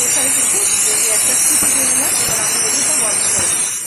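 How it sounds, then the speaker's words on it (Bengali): Steam rushes loudly and continuously from a pressure cooker whistle while soybean curry with goat fat cooks inside, a sustained hiss with faint wavering whistle tones beneath it, easing slightly at the end. "প্রেশারে ঢেলে দেবো আর একটা সিটি দিয়ে নেব"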